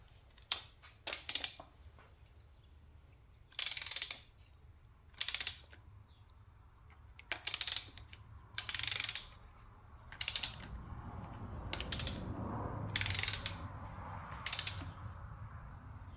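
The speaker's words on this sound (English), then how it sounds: "I'm going to go ahead and tighten these to 21 foot-pounds" A torque wrench tightens the bolts on a Perkins D3.152 diesel engine. It gives repeated short bursts of ratchet clicking in an irregular rhythm, close and crisp, with quiet handling noises between the strokes.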